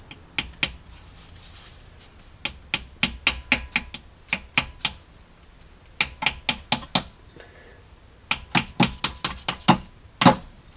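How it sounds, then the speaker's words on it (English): Sharp metallic taps of a hammer on a punch driving out the rear main seal of a Jeep 4.0L engine, in quick rhythmic bursts of strikes separated by short pauses, close and clear without talk. "I'm just going to keep slowly pushing it through until I can't anymore with a punch."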